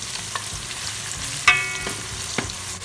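Onions fry in palm oil in a pot for jollof rice, a steady sizzle broken by a few clinks and scrapes of stirring, close and alone.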